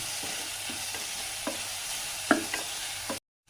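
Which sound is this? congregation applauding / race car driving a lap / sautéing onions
sautéing onions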